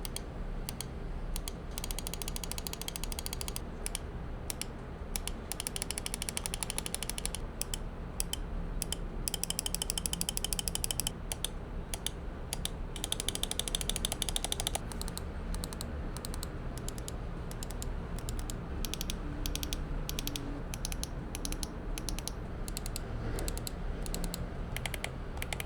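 Scroll wheel of a Razer Viper V3 Pro mouse ticking through its notches, a close, steady run of fine rapid clicks in bursts with short pauses, tight and deliberate.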